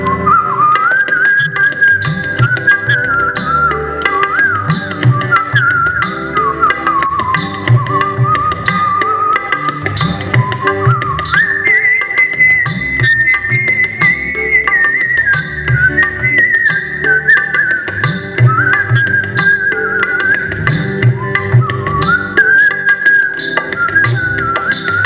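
Several people whistle a continuous, wandering melody, bright and loud, sustained for the whole stretch with shifting pitch and light background sounds beneath.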